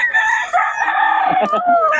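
A single gamecock of Golden Boy bloodline gives a long, loud crow close by, its drawn-out call filling the whole moment.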